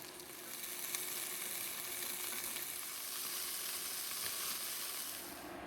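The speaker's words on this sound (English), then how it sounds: "To sear the meat on all sides" Veal pieces sear in a pot for a stew, a dense steady sizzle and spatter holding close and even throughout, with no voices.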